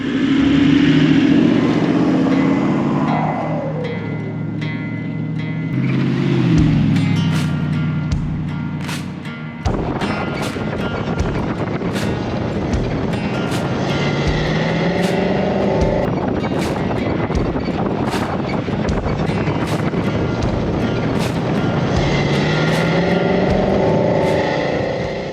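A vehicle drives around near Winton in outback Queensland, its engine droning loudly and steadily, with wind rush and road noise throughout and a shift in engine tone partway through.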